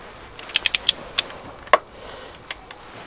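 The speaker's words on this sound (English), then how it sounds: "So I'm going to go around now with the torque wrench and get them all to 8." A torque wrench tightens rocker cover bolts on a car engine during a gasket replacement, giving a quick series of sharp metallic clicks followed by a few isolated ticks, close and fairly quiet against a hushed background.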